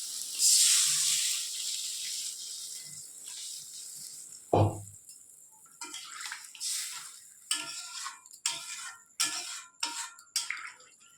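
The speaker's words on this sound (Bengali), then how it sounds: "একটু বলকটা ফুটে উঠুক। বলক উঠে গেছে" Curry in a pan comes to a boil after water is added: a loud hiss first fades, then a thud, followed by irregular bubbling and popping bursts close by.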